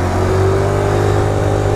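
A Tao Tao 50cc scooter pulling away through its centrifugal clutch, a loud, close buzzing engine drone holding a steady pitch throughout.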